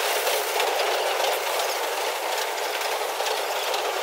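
A train engine runs at a station, giving a steady broadband roar and hiss that stays even and fairly loud throughout, with no voices.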